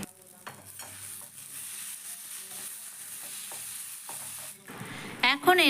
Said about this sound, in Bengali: সব কিছুকে তেলের সাথে কষাতে কষাতে দেখবে সবজিগুলো কত সুন্দর মজে যাবে